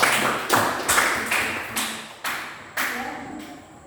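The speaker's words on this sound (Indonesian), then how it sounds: "Oke, tepuk tangan dulu." A small group of quiz participants in a teacher-training class claps in a few sharp bursts, each onset followed by a decaying patter, about seven distinct strikes spread over several seconds, fairly close.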